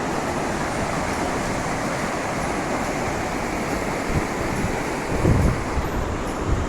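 Steady broad rush of water pouring out through the open gates of Jedarpalayam dam, continuous and full-bodied with wind buffeting the microphone, and a few low thumps near the end.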